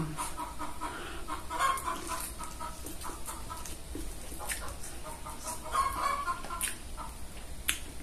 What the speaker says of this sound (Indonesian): Maaf ya kalau ada suara ayam.